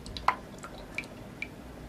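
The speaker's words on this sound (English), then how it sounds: "The water instantly started to drop back." Water drips back down inside an air purifier, a few distinct close drops landing in an irregular rhythm against a quiet background hiss, with no voices.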